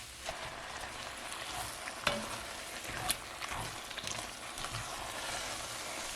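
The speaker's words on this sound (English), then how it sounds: "So I'm just going to saute this for another couple minutes." Lamb vindaloo sautés in a pot with a steady close sizzle while a utensil stirs and scrapes through it, giving a few sharper clacks against the pot, with no talking.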